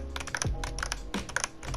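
Rapid clacky keystrokes from a cheap $12 Evo Core non-mechanical computer keyboard, typed in a quick irregular burst of close, distinct taps with no talking.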